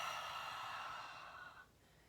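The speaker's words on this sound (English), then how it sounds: "So imagine as if you're fogging up a mirror." A pranayama breath: one long, soft, breathy exhale through the throat, as if fogging a mirror, heard close and quiet, with no talking, before it fades away.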